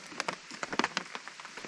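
Rain falls at a wilderness campsite, a quiet patter of scattered drops striking a surface in an irregular rhythm, faint and close with no talking.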